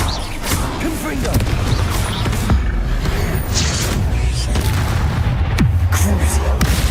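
Blasts from the Confringo fire spell in Hogwarts Legacy boom loudly in a dense run of heavy impacts and crashes, layered over sustained battle noise and shouted spell incantations.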